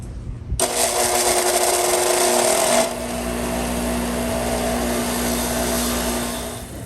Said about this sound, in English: with the wire brush, because it saves time when I go to polish the drill.